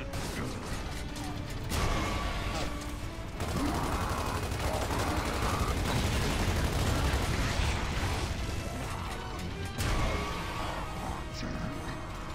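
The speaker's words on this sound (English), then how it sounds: "Let's do the mortar." Mortar firing in Gears of War 2, a run of heavy booming blasts and crashing impacts with mechanical clatter, loud and sustained over a rumbling battle background with a couple of sharper bursts.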